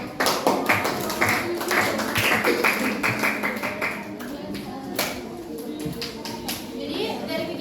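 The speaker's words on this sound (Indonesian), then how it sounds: "Kasih tepuk tangan dulu dong buat" Students in a mathematics classroom clap together, a burst of quick overlapping claps close by that thins into scattered taps, with children's voices chattering over it.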